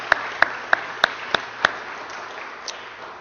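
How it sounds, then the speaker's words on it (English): About six sparse, separate claps from a small audience honoring donors and sponsors at a youth poetry slam event. The claps come at an even, slow pace against quiet room noise and fade out after a couple of seconds. "Can we please give our donors and sponsors a big round of applause as well?"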